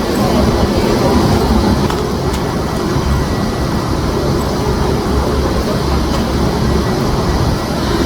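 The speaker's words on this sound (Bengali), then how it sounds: "তাড়াতাড়ি ট্রেনটা ঢুকে গেছে" A train rolling into a busy station gives a loud, steady low rumble and clatter of rail cars that stays constant throughout, with faint hiss and crowd noise in the background.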